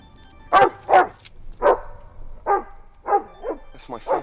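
A dog barks in a series of sharp, separate woofs and yips spaced about half a second apart, fairly close and moderately loud, with occasional whimpering tones.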